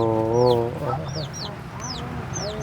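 Chickens clucking nearby, a drawn-out call followed by short squeaky clucks and chirps scattered through the moment, moderately loud outdoors.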